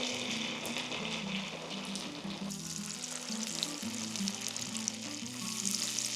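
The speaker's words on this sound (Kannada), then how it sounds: "ಈಗ ಒಂದೊಂದಾಗಿ ಸಬ್ಬಕ್ಕಿ ಟಿಕ್ಕಿಯನ್ನು ಅದ್ರಲ್ಲಿ ಹಾಕೋಣ." Sabudana tikki patties frying in hot oil in a pan, a steady close sizzle and bubbling that runs throughout with no talk.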